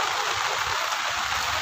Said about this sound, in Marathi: पाऊस खूप पडतोय